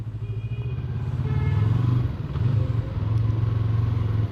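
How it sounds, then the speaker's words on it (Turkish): Busy street traffic with cars and motorcycles passing, a steady close engine rumble with rising and falling surges as vehicles rev and go by, and no talk. "Hakikaten bu ne trafik arkadaş ya."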